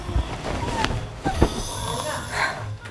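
A husband snores loudly while asleep, the rasping, rumbling breaths repeating through a noisy bedroom recording with a faint voice mixed in underneath.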